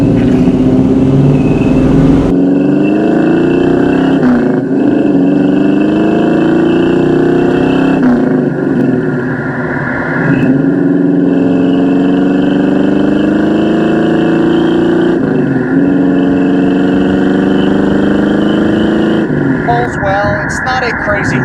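A 1969 Ford Mustang Mach 1 with a Windsor V8 pulls hard on a test drive, its engine note climbing and dropping through repeated acceleration runs, loud and close inside the car, with a voice talking over it throughout.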